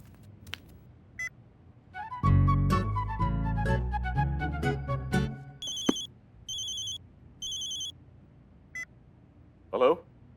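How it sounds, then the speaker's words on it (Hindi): A short run of electronic beeps and tones, like a phone being dialed, followed by a series of repeated beeping pulses, clear and close with no talking. "हम अभी फोन लगा के पूछते हैं।"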